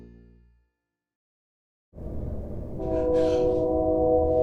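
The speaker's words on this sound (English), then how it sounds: "There's the train going by." A train rolls past on tracks right beside lodging in Revelstoke. After a moment of silence a heavy, close rumble starts suddenly, and a sustained horn sounds over it as the noise builds.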